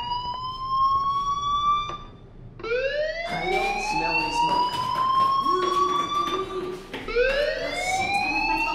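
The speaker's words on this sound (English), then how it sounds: "Hey, do you hear that fire alarm?" A fire alarm rings inside a school building in Life Is Strange, its rising, wailing electronic tone sweeping upward repeatedly in loud bursts with short breaks between.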